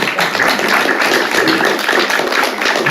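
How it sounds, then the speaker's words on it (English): An audience applauding a panel of historians, a steady, dense patter of many hands clapping that stays even and fairly loud throughout, with no voices over it. "Let's give them all a big round of applause."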